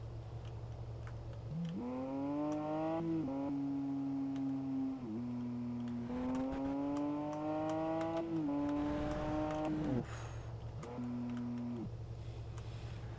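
Simulated car engine in the Parking Lot Simulator video game idles and revs in several rising and falling bursts, a steady, fairly loud droning tone with no talking.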